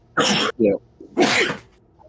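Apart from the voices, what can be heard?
sneeze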